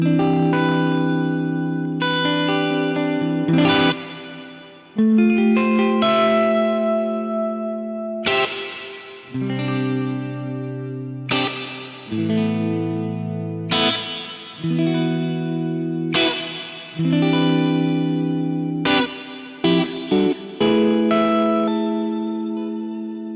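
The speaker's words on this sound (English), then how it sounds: "It should be a nice big lush reverb." An electric guitar through a Neunaber Illumine reverb pedal plays a slow sequence of chords and notes, each ringing out into a wide, washy, lush reverb tail.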